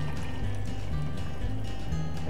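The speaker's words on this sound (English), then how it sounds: "Take the coconut water" Coconut water pours from a freshly cracked coconut in a steady, soft trickle and splash close by, with no voices.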